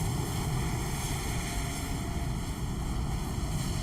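A United Airlines Embraer jet taxis in Microsoft Flight Simulator, its engines a steady, loud, unbroken drone with a constant low rumble and high whine and no other sounds over it.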